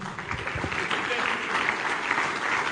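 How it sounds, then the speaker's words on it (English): A church audience applauds the arrival of Dr. Peter Obi, a steady crowd clapping under a loud, echoing hall ambience, with some voices mixed in. "please keep clapping, keep clapping, keep clapping"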